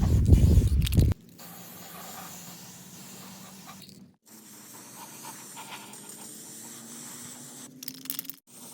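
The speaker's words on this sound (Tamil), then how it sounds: "ஸோ அதனால் இதுக்கு ஒரு பிளாக் கலர் பெயிண்ட்டை வந்து நல்லா ஸ்ப்ரே பண்ணி விட்டுருப்போம்." Aerosol spray can hissing black paint onto a homemade wood-burning turbo stove, a faint steady hiss in short bursts after a brief louder noise at the start.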